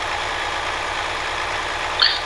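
A truck engine idles loudly in Euro Truck Simulator 2, a steady, dense low rumble with a constant mechanical hum and a brief faint high chirp near the end.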